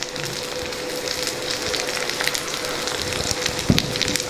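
Chopped cluster beans and green beans frying with onions in a pan give a steady, close crackle and sizzle, with a few sharper pops and stirring clatters near the end; no voices.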